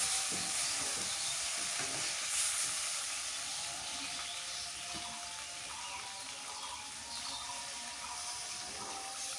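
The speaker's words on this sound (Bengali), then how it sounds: "লাল লাল করে কষাইছি আলু।" Potatoes fry in a pan with a steady, close sizzle and hiss, plus some scraping stirs. The sound fades slightly over time, with no talking.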